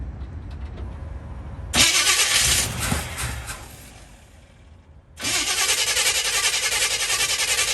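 Starter cranking on a 1964 Chevy C10 pickup after years off the road, two long loud churning bursts separated by a pause, close up with a low rumble underneath.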